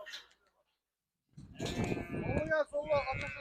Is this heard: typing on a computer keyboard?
no